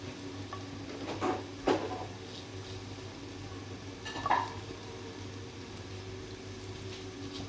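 Onions fry in a little oil in a frying pan on a stove, a constant low sizzle broken by two short bursts of louder crackling as ingredients shift.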